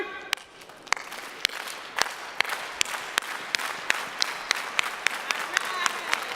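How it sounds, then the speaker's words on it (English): A commencement ceremony crowd applauds steadily, a dense wash of clapping with sharp individual claps standing out at a regular pace. "Those applause are for everybody."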